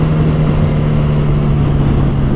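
Loud, steady drone of a 2022 Suzuki Hayabusa engine with a sustained tone, the quick shifter clicking through an upshift with auto blip and no clear break in the continuous roar.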